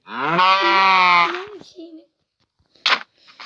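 A single long, drawn-out cow moo from the game Minecraft rings out clearly, followed by brief murmurs and a short sharp sound near the end.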